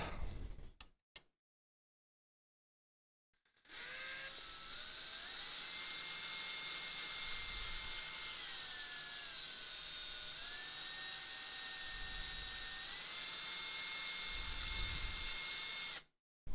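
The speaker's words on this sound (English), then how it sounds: "And now we drill two more holes." Small power drill boring holes into a Sega Dreamcast console case during an HDMI mod install, a steady close whine with shifting pitch for about twelve seconds after a short burst and a pause.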